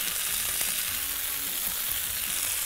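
Red onion cooks in a dry pan with no oil added, giving a continuous close sizzle with faint scraping of stirring throughout and no voices.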